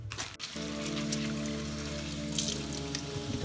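Tap water running into split peas being rinsed for a ham-bone soup, a steady splashing stream with a faint hum, some drips and patters near the start.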